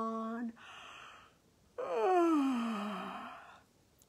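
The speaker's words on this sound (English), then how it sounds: "Can you yawn?" A woman gives a long, voiced yawn at a children's bedtime story session: a short breathy sound, a pause, then a drawn-out moan that slides downward in pitch and trails off.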